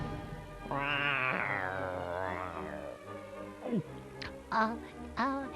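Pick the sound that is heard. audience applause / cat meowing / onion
cat meowing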